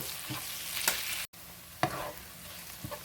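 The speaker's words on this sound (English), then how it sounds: "These are cooking down beautifully." Onions cook down in a pan with a soft, steady sizzle, broken by a brief silence and a few scraping stirs.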